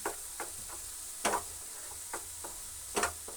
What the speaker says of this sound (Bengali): এই দেখুন, ভালো করে নাড়তে হবে, নাহলে কিন্তু একদিকে আটকে যাবে